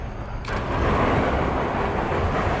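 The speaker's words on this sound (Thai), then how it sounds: "ได้ยินเสียงรถไถวิ่งเลย" A steady tractor engine rumble runs throughout, a continuous low droning motor nearby that swells slightly after a brief quieter start.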